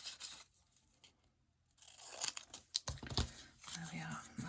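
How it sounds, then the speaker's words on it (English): Scissors snip through paper during a craft session, a few crisp cutting and tearing crunches in the second half, with a person talking softly around them. "And then we'll cut that in half."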